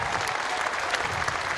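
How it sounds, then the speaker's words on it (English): Crowd at a tennis tournament in Hobart applauding winner Elena Vesnina, a dense, even wash of clapping from many hands, steady and moderately loud for a brief stretch. "another big round of applause for Elena Vesnina"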